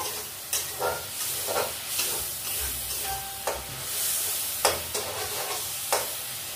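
Frying in a pan before taro leaves go in, a steady sizzle broken by repeated stirring scrapes at a regular rhythm, close and fairly loud with no voices.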